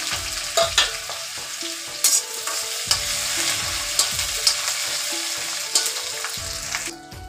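Fenugreek, cumin, asafoetida, garlic and chili sizzle steadily in hot oil, close up, with repeated scraping stirs of a spoon against the pan and no talk.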